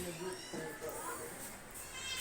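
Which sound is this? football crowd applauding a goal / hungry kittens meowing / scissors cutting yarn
hungry kittens meowing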